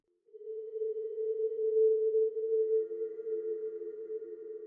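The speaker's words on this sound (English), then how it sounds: "For really long ambient reverbs, turn the repeats all the way up, the detune about halfway up, and the smear all the way up." A long, washy ambient reverb from the Atmobits Max for Live device in Ableton Live, with repeats and smear at maximum and detune about halfway, sustains a steady midrange tone for several seconds with a soft swell and a faint shimmering upper layer.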